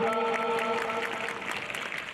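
Dense, steady clapping from an audience welcoming guests at a school annual sports meet, carrying on continuously with a faint tonal hum underneath.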